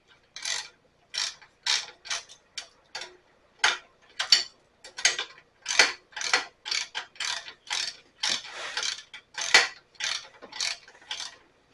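A ratchet tool tightens elastic nuts and bolts on a VEVOR hose reel cart, a long rhythmic string of close, crisp clicking strokes in short bursts, steady and alone without talk.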